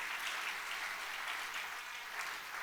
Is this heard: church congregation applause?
yes